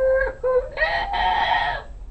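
A human voice imitating a rooster's crow, a couple of short clipped notes then a long strained cry, loud and close.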